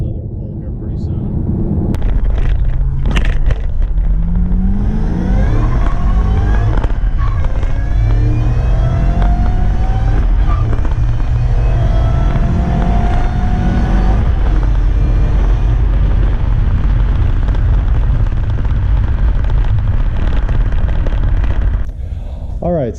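A Ford Mustang GT500 with bolt-on modifications accelerates hard through a pull, its engine roaring loudly and climbing in pitch over about twenty seconds, with wind rush and a voice talking over the noise.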